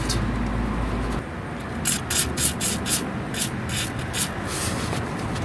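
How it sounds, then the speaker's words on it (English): Short hissing bursts of an aerosol spray onto the base of a drive belt bolt on a John Deere riding mower, several quick puffs in a row, close by over a low background rumble. "So I like to spray the base of that bolt."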